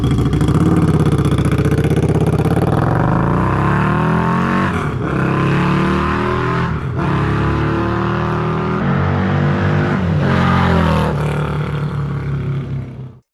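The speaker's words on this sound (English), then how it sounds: "with the right pipes, the sound of a V-Rod was like nothing else in existence" Harley-Davidson V-Rod motorcycle with aftermarket pipes, its engine revving loudly and continuously up close, rising and falling through several throttle blips with no talking over it.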